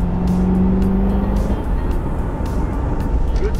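A Golf 7 GTI pulls hard at full throttle, its engine a loud, steady, close roar filling the cabin with dense road and wind noise and no talking.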